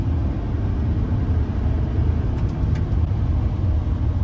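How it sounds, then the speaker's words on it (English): A 2020 Chevrolet Silverado 2500HD High Country pickup accelerating, its engine giving a steady, loud low drone that holds evenly throughout with no talk over it. "That is my favorite feature of this truck, is the acceleration"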